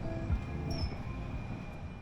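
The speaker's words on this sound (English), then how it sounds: "join me for a trip on board this train from Okayama to Hiroshima" 500 Series Shinkansen high-speed train at Okayama station, a rumbling rail passage with wheel thumps and a brief high squeal, moderately close and continuous.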